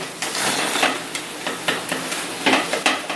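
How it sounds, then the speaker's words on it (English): Tomatoes are crushed and stirred in a pan over high heat, giving a close, continuous sizzle broken by repeated scraping pushes of the utensil every fraction of a second. "we can crank up the heat and then just keep crushing the tomato"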